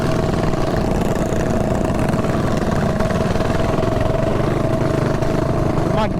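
A mini bike's small gasoline engine idles steadily at close range in a riverbed, a continuous loud buzzing drone that never lets up, with the bike leaking gas.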